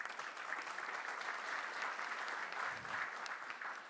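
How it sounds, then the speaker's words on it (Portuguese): Audience applause at a Brazilian government meeting on the sanitation legal framework, steady dense clapping from a sizable crowd that holds evenly throughout with no talk over it. "Todos precisam ser aqui aplaudidos e reconhecidos."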